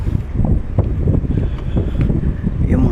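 Strong gusting wind buffets the microphone in heavy, uneven bursts, with a low rumbling roar throughout, at a fish port under overcast skies.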